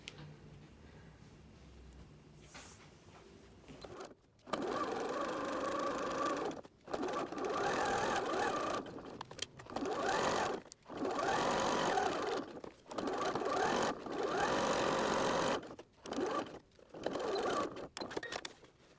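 A sewing machine stitches seams on a fabric seat belt cover, running in repeated bursts of steady mechanical whirring separated by short pauses, starting after a quiet stretch with faint handling noises.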